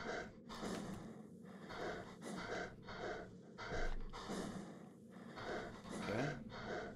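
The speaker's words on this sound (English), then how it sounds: "Thou canst hear heavy labor breathing from a nearby room." Heavy, laboured breathing drifts from a nearby room in a retro-style dungeon crawler video game. It comes as a steady run of loud, rhythmic gasping breaths and snorts, repeating about once a second throughout.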